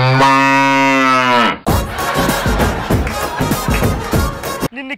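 A cow or buffalo lets out a loud, drawn-out moo, close and clear, then cuts off abruptly into a busy burst of noisy, clattering sound.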